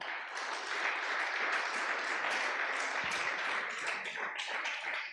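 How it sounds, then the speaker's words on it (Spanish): Church congregation giving a strong round of applause during a sermon, dense continuous clapping from many hands with scattered sharper claps, heard alone at moderate level. "Dele un fuerte aplauso a Dios."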